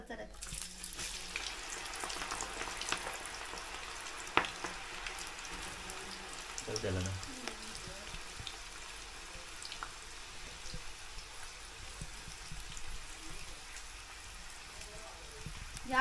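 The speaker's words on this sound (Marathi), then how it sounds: "आता टाकून बघा कसला चरचरत." Jackfruit pieces fry in hot oil on a village wood-fired stove, making a continuous close crackling sizzle like light rain, with occasional sharper pops, at moderate loudness.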